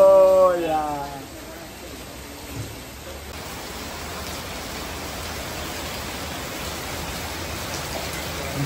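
Heavy rain pours during Ganpati darshan in Mumbai, a loud, dense, unbroken hiss that fills the scene after a voice speaks briefly at the start.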